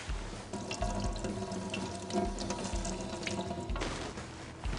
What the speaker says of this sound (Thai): เดี๋ยวล้างหน่อย